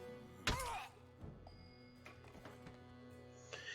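A strength attack landing a killing blow in The Banner Saga: one heavy thunk opens the sequence, followed by quieter clicks and knocks and a short rasp near the end.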